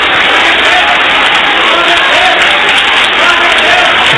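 A church congregation claps together in sustained applause, a dense, even wash of hand claps filling the room with no pause.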